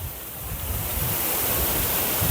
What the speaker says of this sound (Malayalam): ഇതിങ്ങനെ നമ്മുടെ പറമ്പിക്കൂടി കൂടി ഒഴുകുന്ന ഒരു കൊല്ലിച്ചാലാണ്